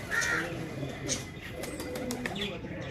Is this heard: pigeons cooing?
yes